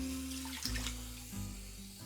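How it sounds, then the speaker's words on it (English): Hot water pours from a container into a cooking pot for chicken soup, a soft, close trickle and splash that shifts in pitch as the pot fills. "Probably going to put about 6 cups of hot water in here."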